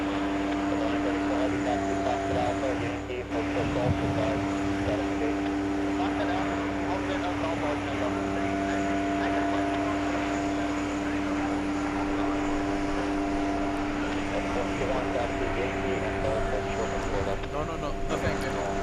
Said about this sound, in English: Delta 510 flying in from Vegas.